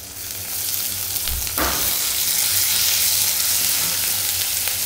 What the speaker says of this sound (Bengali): এখন এর মধ্যে একে একে রসুন বাটা, পেঁয়াজ, হালকা একটু পেঁয়াজ বাটা, এগুলো মশলা দিয়ে দেবো।